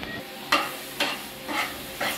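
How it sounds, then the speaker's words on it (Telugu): Tomatoes with masala fry for boti curry while a spoon scrapes the pan in four evenly spaced strokes over a steady sizzle. "టమాటాలు మసాలా వేసి వేపుకోవాలండి"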